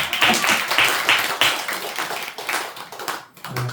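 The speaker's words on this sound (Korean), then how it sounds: "박수 한번 쳐." At a Buddhist dharma lecture, the audience gives a short round of applause for a department head, lively clapping close and loud at first, then thinning and fading out.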